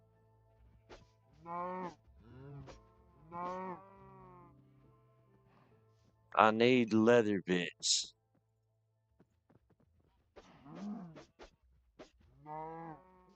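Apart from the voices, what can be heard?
cows mooing in a video game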